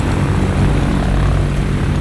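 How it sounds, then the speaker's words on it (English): Curtiss C-46 cargo plane piston engines running steadily during a winter test flight at about minus 35, a loud, continuous propeller drone with no pauses or talk. "the big cargo plane must take a test flight"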